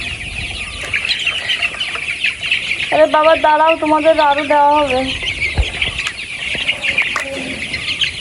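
Chickens on a poultry farm, around a hundred crowded near three water pots, cluck and call steadily, with a loud drawn-out crow in the middle, while a person talks over them close by.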